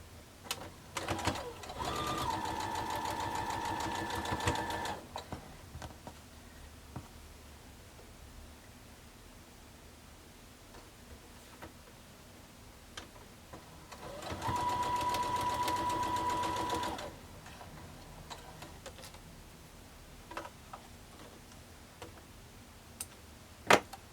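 A sewing machine chain-pieces quilt half-square triangles in two bursts of steady whirring stitching, a few seconds each, separated by quieter handling noises, small clicks and fabric rustles nearby.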